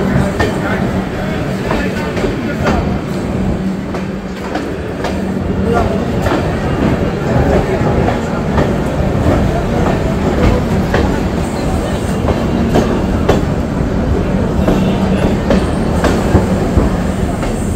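A train running through Ranaghat Junction, a loud continuous rumble with rhythmic clickety-clack of wheels on rail joints, steady and close throughout.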